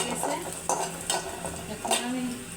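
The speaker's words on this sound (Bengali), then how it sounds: "আমি পেঁয়াজটা ভালো করে ভেজে নিচ্ছি।" Onion fries in a small amount of oil in a pan, a moderate sizzle broken by several sharp clinks and scrapes of a spoon stirring against the metal.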